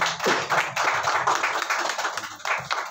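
An audience claps continuously at a music launch event, a dense patter of many hands applauding together at close range.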